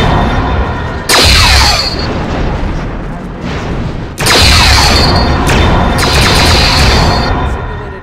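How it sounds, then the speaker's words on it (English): Enemy starship blowing up in the Star Trek Bridge Commander game: loud, sustained booming explosions with crackling debris, in two main bursts and a few smaller ones in between, filling the whole stretch. "Simulated enemy ship has been destroyed."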